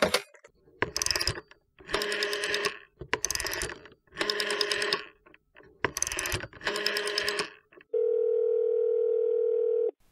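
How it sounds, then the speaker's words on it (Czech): A telephone dial tone follows a series of rapid dialing bursts as a number is entered, the steady tone holding for about two seconds at the end, close and clear with no talking. "A tak detektiv vytočil telefonní číslo."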